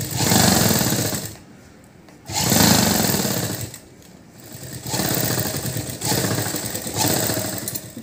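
A sewing machine stitches a blouse back-neck design in loud, close bursts of rapid mechanical whirring, several runs of about one to two seconds each separated by short quieter pauses.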